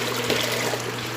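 Water, a litre's worth, pours steadily into a cooking pot for Kapampangan corn soup, a continuous close splashing trickle throughout.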